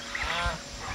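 Chickens in a coop at feeding time, giving a brief close squawking call over steady background noise.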